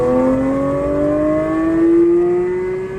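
A Porsche 992 GT3 with a Dundon exhaust and a six-cylinder engine revs up with a loud, close, high, rising wail that holds for about three seconds before easing off.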